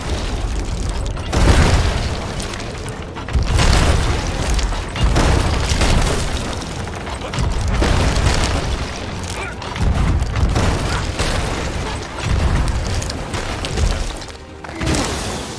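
Repeated booming cannon blasts in the video game Sea of Thieves, heavy and loud, arriving every second or two over a continuous rumble.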